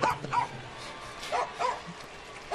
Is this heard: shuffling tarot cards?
no